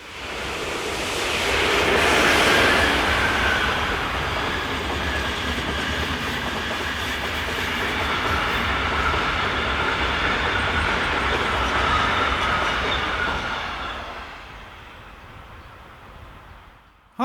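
A postal train passes on the Olten area main line in Switzerland, a loud rushing roar with rhythmic wheel clatter that swells early, holds steady, then fades away near the end.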